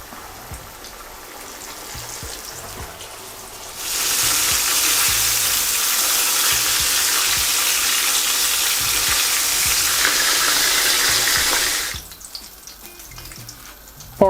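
A batch of breaded chicken drops into hot deep-frying oil and sizzles loudly and steadily for about eight seconds, with quieter kitchen noise before and after.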